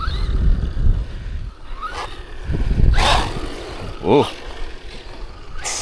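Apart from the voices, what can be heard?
budget brushless RC car LYNXOR driving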